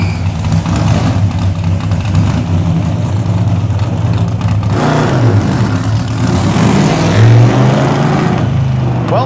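A Hemi-powered car engine revs hard and steadily during a cold clutch test in a short alley, a loud continuous low rumble that swells and accelerates near the end.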